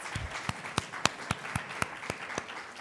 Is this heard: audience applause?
yes